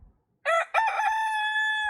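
Silkie chicken crowing close up: a short opening note, a brief break, then a loud sustained cock-a-doodle-doo that holds its pitch to the end, heard alone without talk.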